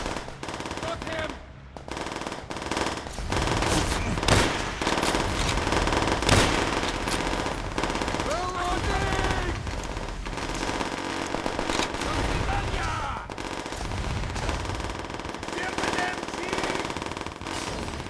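Sustained machine-gun bursts and rifle shots crackle through a Call of Duty: World at War battle, with dense, continuous gunfire and scattered explosions, while voices shout over the din.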